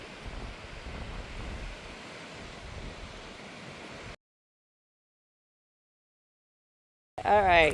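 Wind rushes steadily through trees along the Rough Trail in Red River Gorge, a broad continuous whoosh for about four seconds before cutting to silence, then a brief loud burst at the very end.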